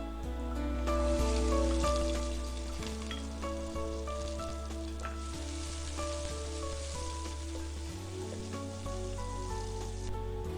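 Sliced onions sauté in oil with garam masala for chicken mandi, a steady loud sizzle with occasional stirring scrapes running throughout, close and continuous with no talking.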